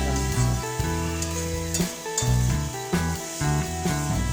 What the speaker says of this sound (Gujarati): ધીરે ધીરે હલાવી બધું શક્કરિયા શેકાઈ જાય